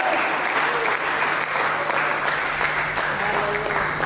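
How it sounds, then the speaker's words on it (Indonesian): Congregation at a church service gives loud, continuous applause, a thick wall of clapping from many hands that holds steady throughout, with a low hum beneath it. "Mari kita berikan tepuk tangan bagi Yesus Kristus."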